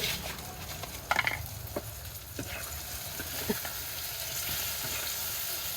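Spices hit a hot blackened cooking pot and sizzle steadily while frying, with a few clinks from stirring over a continuous crackle.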